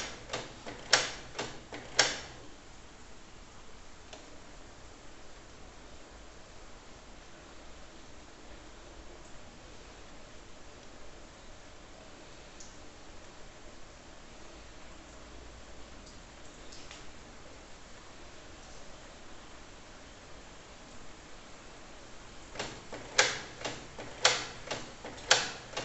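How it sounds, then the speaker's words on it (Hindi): A Canon wireless printer begins its first page with clusters of sharp mechanical ticks and clicks at the start and end, and a faint low whirring hum in between, fairly quiet overall. "तो देखिए प्रिंटिंग आपका शुरू हो चुका है"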